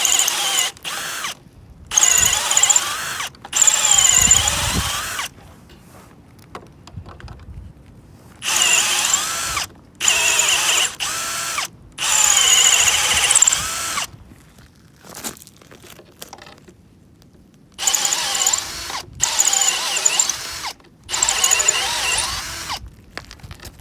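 A drill bit bores into timber at a sawmill during timber frame work, sounding as repeated loud bursts of whirring, chattering drilling separated by short pauses.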